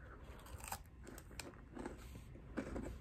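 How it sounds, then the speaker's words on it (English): Someone bites into a Mr Beast crunch chocolate bar, making several close, crisp crunches in quick succession with no talking. "so we're gonna try the crunch bar."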